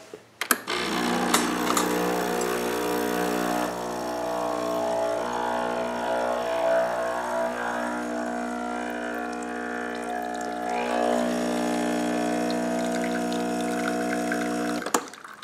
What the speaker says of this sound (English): Put that into the group head there. And pull the shot.